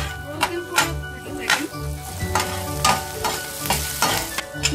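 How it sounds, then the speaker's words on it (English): Green chilies roast in a hot pan with ginger and garlic, stirred in a brisk rhythm. Regular scraping strokes rise over a continuous close sizzle, and nobody speaks. "Now add green chilies as per your taste. Roast them for 30"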